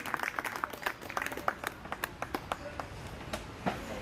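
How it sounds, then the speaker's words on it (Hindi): An audience at a Bharatiya Yog Sansthan foundation-day gathering claps for an honoured guest, a burst of hand claps that thins into scattered, separate claps over a few seconds. "बहुत जोरदार तालियां बजाएं"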